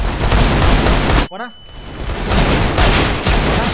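Dense, continuous gunfire fills a competitive shooter video game match, loud and close, broken by a brief lull with a short spoken word before the shooting resumes.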